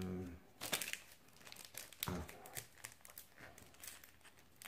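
Packaging being unwrapped in a home setting, with crinkling and tearing plastic in irregular bursts, fairly close and moderately loud, and no talk over it.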